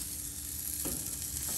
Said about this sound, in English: Ooh yeah, listen to that sizzle,